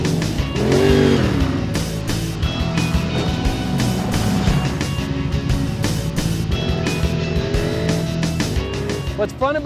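A turbocharged EVOPS Wildcat side-by-side accelerates hard, its engine revving loud and close with rising pitch sweeps and rough, rattly mechanical noise, while a person talks over it.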